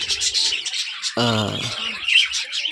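Pet birds kept in a colony cage give a brief run of chirps and a short cooing call, heard close and alone.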